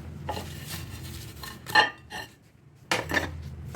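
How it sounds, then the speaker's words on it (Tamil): A metal lid is set onto a cooking pot during a soya chunk gravy cook, giving sharp clanks and rattles at close range, with a couple of separate contacts. "இது மூடி கொடுத்து விட்டுடலாம்"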